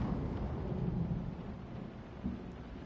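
Thunder and rain in the horror game Layers of Fear: a low, rolling rumble of thunder swells and fades over a soft hiss of rainfall, with a smaller rumble near the end and no voices.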